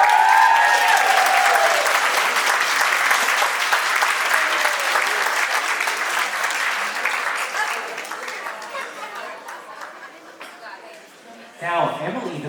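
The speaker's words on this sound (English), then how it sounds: "All right, let's give Matt a big round of applause." Wedding guests break into a big round of applause, loud and sustained, fading over several seconds as the clapping thins out, with a brief burst of talk near the end.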